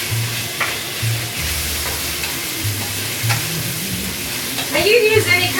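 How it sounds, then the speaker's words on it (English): Pork sautés in a hot pan with a steady, close sizzle and occasional stirring scrapes, for cactus and pork nopales con carne asada, continuing without pause and no talk. "we just go ahead and saute that pork"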